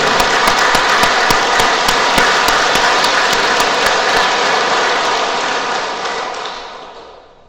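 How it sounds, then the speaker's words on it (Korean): Loud, dense applause from a large church congregation with some sharp individual claps, steady for several seconds before gradually fading out. "박수 한번 쳐볼게요. 세게."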